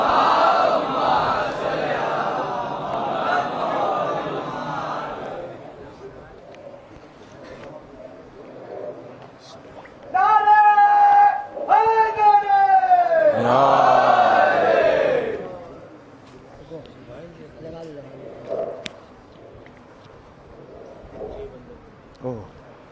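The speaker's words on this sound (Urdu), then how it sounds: "بلند نعرے سلوات۔" At a Muharram majlis in Imambada Afzal Mahal, Lucknow, a crowd loudly chants salawat in unison, a strong burst of massed voices rising after quieter speech and fading back into talk.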